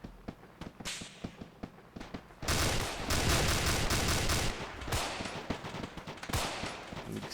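Rapid gunfire in the Arma 2 military game: sparse single shots give way to a dense, sustained burst of automatic fire, then scattered cracks continue, loud and close with no talk.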